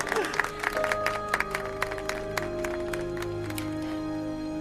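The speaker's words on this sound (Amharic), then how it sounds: "So a big hand for Devyani Datta" An audience applauds for Devyani Datta, steady clapping at moderate distance that lasts through the moment, with sustained musical tones running beneath it.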